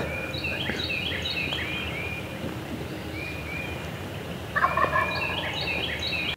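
Wild turkeys gobbling on public land in Ohio, several rattling gobbles from birds at a distance with a louder, nearer burst toward the end, no talking.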